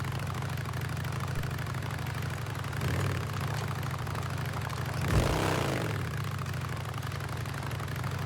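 A motorcycle engine idles in the video game Days Gone, giving a steady, low, continuous rumble with a brief swell in the middle, alone without talk.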